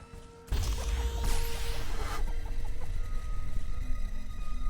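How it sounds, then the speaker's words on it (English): Chickens cluck in The Riftbreaker base-building survival video game, loud and close, over a dense, continuous game soundscape that sets in abruptly after a quiet start. "Chicken sounds."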